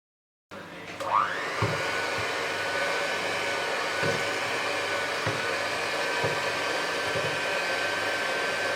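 An electric hand beater whirs steadily through cake batter mixed with vanilla essence and sunflower oil for an oven-free white forest cake, a loud continuous motor drone with faint knocks as the beaters hit the bowl, no voices.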